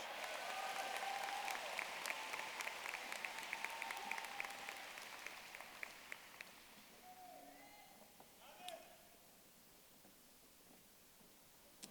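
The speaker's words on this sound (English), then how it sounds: "Let's give them another warm round of applause." Graduation audience applauding at a high school commencement ceremony, a broad steady wash of clapping that gradually thins and fades over the stretch, ending in scattered claps.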